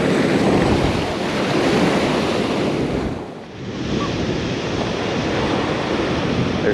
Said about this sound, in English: Every time I wade out, there's a new set of waves coming